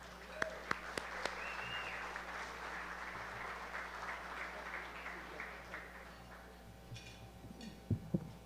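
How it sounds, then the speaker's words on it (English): An audience at a basketball hall of fame ceremony applauding an honoree, a moderately loud spread of clapping in a large room with a few sharper individual claps and a low hum underneath. "Let's have a big round of applause for our friend Pete Strickland."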